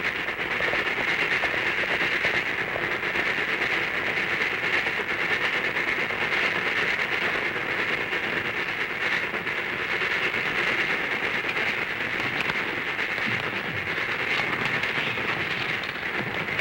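A train rumbles along continuously with a steady roar and faint rattling, loud and close throughout, no voices.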